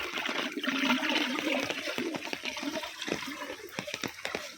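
Collected rainwater gushes and gurgles down into an old borewell, a close, steady rushing flow that breaks into choppier splashes toward the end.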